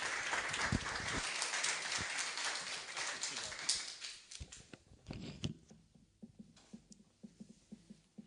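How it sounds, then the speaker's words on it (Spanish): An audience at a session claps to welcome a speaker, scattered and fairly soft at first, then thinning into a few isolated claps and taps that trail off over the last few seconds. "Lo recibimos con un fuerte aplauso"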